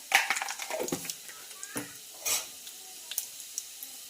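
Cinnamon, bay leaves and cumin fry in a pan for a lentil dish. Faint sizzling runs beneath scattered stirring scrapes and clinks, busiest at the start, then thinning to sparse taps.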